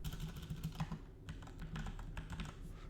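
Steady typing on a computer keyboard, close and fairly quiet, with brisk uneven keystrokes continuing throughout and no voices.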